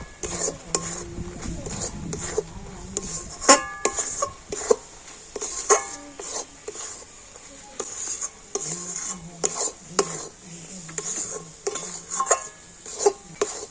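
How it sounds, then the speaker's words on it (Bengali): A spoon scrapes and knocks against a pan while rice flour and coconut mixture is stirred over low heat, repeated clanks and scrapes in an irregular rhythm, up close with little else. "তো চালের গুঁড়িটা দিয়ে এইভাবে কন্ট্রোল নাড়াচাড়া করে নিতে হবে"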